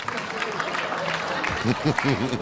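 A comedy show audience claps in a broad, noisy wash that runs steadily beneath a voice as he talks over it.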